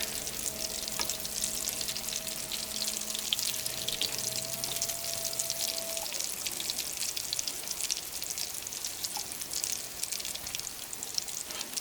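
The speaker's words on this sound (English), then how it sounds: "Three minutes seems to be a good frying time." A steady, dense sizzle of coddies deep frying in hot oil in an electric fryer, crackling and bubbling continuously throughout, with a faint electronic tone early on.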